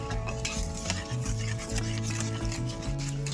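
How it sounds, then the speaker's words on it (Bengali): A utensil scrapes and stirs thickening homemade tomato sauce with tamarind in a pan, with steady close rubbing and soft clinks over a light sizzle, no voices. "এবার এটাকে আমি আরও কিছুক্ষণ নাড়তে থাকবো যতক্ষণ না ঘন হবে এটা"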